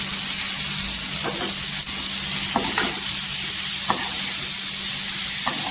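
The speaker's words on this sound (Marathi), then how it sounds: "ही भाजी आहे ना पूर्णपणे याची सुकी बनवायची आहे आणि ही तेलावर परतून घ्यायची" Boiled potatoes and cauliflower pieces stir-fry in oil in a pan, a steady sizzle broken by a few scraping strokes of a spatula, close and with no talking.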